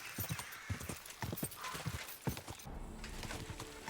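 Hooves clip-clop in a quick uneven rhythm from a horse in Kingdom Come Deliverance 2, with a brief whinny. The steps come close and fairly loud, then give way to a steady low rumble of movement near the end.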